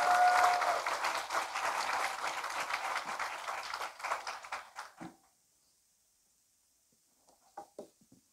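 An audience at a World AIDS Day seminar claps steadily for an arriving speaker for about five seconds, then the applause dies away into near silence with a few faint knocks at the end.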